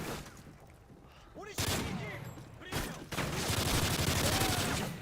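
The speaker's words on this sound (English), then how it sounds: "I was shooting right at him and it didn't even do anything" Gunfire in a shooter video game: loud, dense bursts of rapid shots come in waves and grow heavier toward the end, with a person talking over them.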